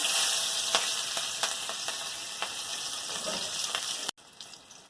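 Nigella seeds and a slit green chili hiss and crackle in hot oil, a steady close sizzle with scattered pops that drops suddenly in level near the end.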